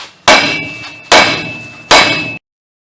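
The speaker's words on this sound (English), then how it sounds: "you just want to get a BFH and just beat the hell out of it until you get this thing to loosen up and come off" Three heavy hammer blows ring out on a stuck wheel bearing hub of a 1999-2007 GMC Sierra or Silverado pickup, each a loud metallic bang with a ringing decay, about a second apart, close, with no talking.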